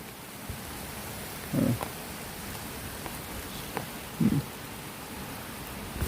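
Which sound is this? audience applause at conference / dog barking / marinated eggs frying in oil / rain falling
rain falling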